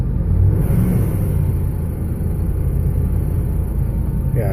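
A 1988 Toyota Land Cruiser FJ62 with a V8 engine idling high while cold, a steady, close low rumble that holds even throughout with no revving.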